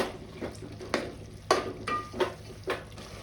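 A spatula stirs a green chili and coriander mixture in a pan for a home chicken gravy, giving several separate scraping strokes with light metallic clinks over a soft sizzle.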